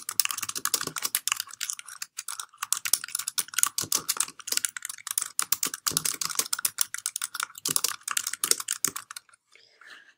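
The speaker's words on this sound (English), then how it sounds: "go ahead and delete this and type in what you want it to say first." Rapid, steady typing on a computer keyboard, close and distinct, with a dense run of key clicks that thins out near the end; no voices.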